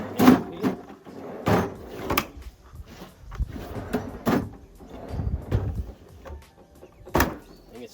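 A 60 litre King's drawer fridge slides in and out of its mount in an Isuzu MU-X, giving several loud rumbling runners and thuds spaced across the stretch, close and without talk.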